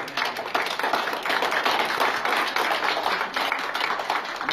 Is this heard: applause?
yes